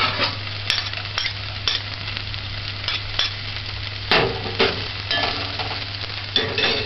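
Onions sautéing in a pan for corned beef with green peas: a steady sizzle and fry, with occasional utensil scrapes and stirring clinks, close and moderately loud, with no talking.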